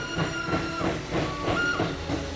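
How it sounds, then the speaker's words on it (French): A steam train chugging with rhythmic puffs, a sustained whistle tone and hissing steam, fairly close and loud. "peuplée de trains à vapeur,"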